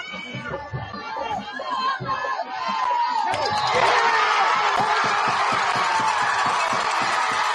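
Crowd noise fills an arena during a basketball game, beginning as scattered chatter with bouncing thumps, then swelling into a loud, sustained roar around the midpoint that holds steady to the end.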